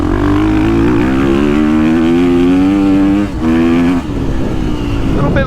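A 2023 KTM SXF motocross bike engine revs hard while being ridden, a loud, close, rising and falling mechanical drone with a brief dip in throttle before pulling again.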